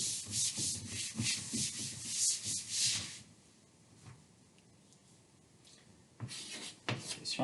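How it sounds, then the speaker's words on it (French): Rhythmic rubbing strokes of an eraser sweep across a board for about three seconds, pause in near quiet, then resume briefly near the end, close and alone without speech. "je vais effacer tout ça"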